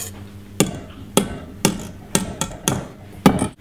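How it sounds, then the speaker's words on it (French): A knife strikes a cutting board in about seven sharp, evenly spaced chops as fresh basil is finely cut, each hit loud and close with brief decay. "Je découpe les tomates séchées en fines brunoises. Je cisele le basilic frais."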